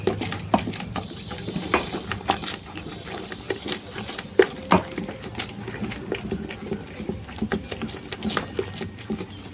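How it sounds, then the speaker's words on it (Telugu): Flour is stirred little by little into hot sugar syrup for chalimidi, a Telugu sweet, with a steady run of close, soft scraping and sticky pattering strokes in a pot. "ఇప్పుడు కొంచెం కొంచెం పిండి వేసుకుంటూ ఇది కలుపుకుంటూ ఉండాలి"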